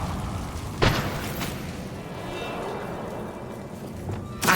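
A Confringo fire spell explosion in Hogwarts Legacy, sounding as a sharp burst near the start with a rumbling tail and another blast at the very end, over a steady low game ambience.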